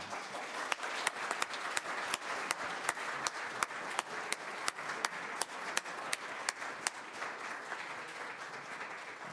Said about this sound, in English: just give a big round of applause to Anna.